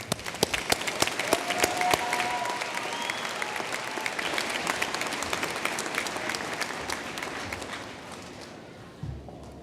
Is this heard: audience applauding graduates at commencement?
yes